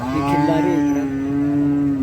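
A bull at a cattle market gives one loud, low, sustained moo that lasts about two seconds, close by.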